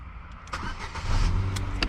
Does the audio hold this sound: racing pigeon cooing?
no